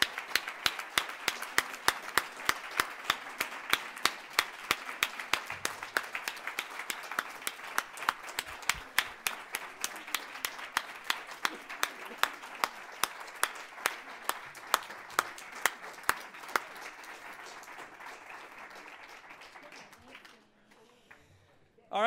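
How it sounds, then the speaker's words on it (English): An audience at a 2015 Hall of Fame induction ceremony claps steadily for the inductees, sustained applause that slowly thins out and stops near the end. "let's give everybody another round of applause"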